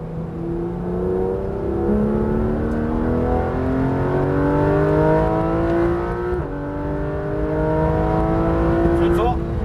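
Porsche 991 GT3 RS on the Le Mans track accelerating hard, engine pitch climbing steadily through successive upshifts, loud and close, with someone speaking French over it.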